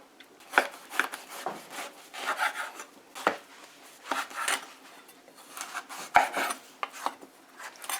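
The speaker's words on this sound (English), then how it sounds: "So you cut in pieces like this, so then you can make your slices off of these." A knife cuts through tough breadfruit, making a run of close, irregular rasping and scraping strokes with a few sharper knocks against a board, and no talk.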